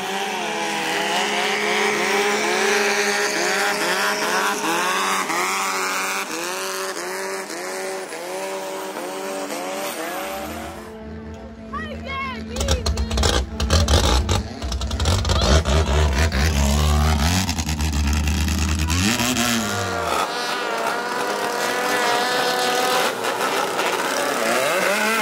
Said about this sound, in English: the twin turbo boat, 500 horsepower